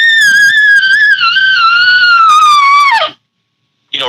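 An elk bugle imitated with a hand call, kept small and mild: a high whistling tone holds steady for about three seconds, slides down and cuts off, then starts again briefly after a pause, loud and close with no talking.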